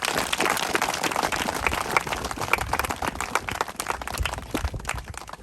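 An audience at a New Year church service in 2023 claps loudly and steadily, a dense wash of hand claps filling the whole stretch without any speech over it.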